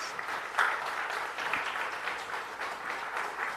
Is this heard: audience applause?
yes